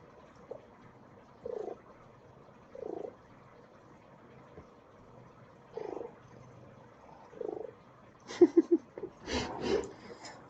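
Soft cooing, pigeon-like chirrups from a cat come in short separate bursts with quiet pauses, followed by a cluster of sharper, louder sounds near the end.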